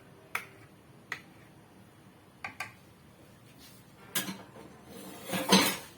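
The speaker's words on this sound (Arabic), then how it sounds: "نقلب في الخليط من تحت لفوق كده عشان نشوف فيه تكتلات ولا حاجه في قاع الطبق" A spoon stirring eggless, economical chocolate cake batter in a bowl gives a few sparse, sharp clinks and taps against the dish, quiet between hits, with a louder scraping clatter near the end.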